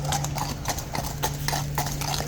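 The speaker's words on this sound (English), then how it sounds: "So there are still horses at Horse Guards" Horses at Horse Guards in London, hooves clip-clopping in a steady, fairly close rhythm of repeated sharp strikes on hard ground.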